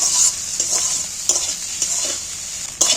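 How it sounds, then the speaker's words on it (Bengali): Fish sizzles in hot oil in a pan, a close steady crackle broken by a few scraping stirs of a spatula. "একদম ধীরে ধীরে মাছ ভাজা হয়ে গেছে"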